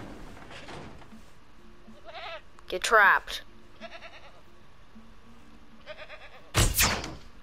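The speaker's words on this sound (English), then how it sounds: "be careful with the goat" A goat bleats in several short, wavering calls spread through the stretch, each rising over ongoing conversation and other scattered noises.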